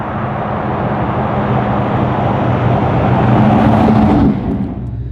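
A 550hp LS3 V8 Land Rover Defender by Squire Editions accelerates hard. Its loud, deep engine roar swells and climbs in pitch, then eases off at the end.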